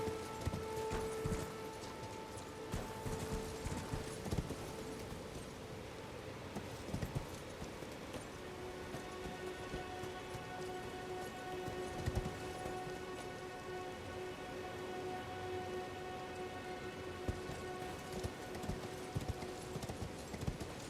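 Horse hooves clip-clop in the video game Elden Ring, a steady, fairly faint patter of hoofbeats running throughout, blended with soft rain-like noise and sustained background music tones.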